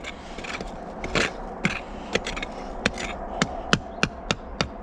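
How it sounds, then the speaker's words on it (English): A digging tool strikes stone buried in dirt, giving a series of sharp, close knocks that come roughly every half second, over a low scraping background. "and then I hit stone again."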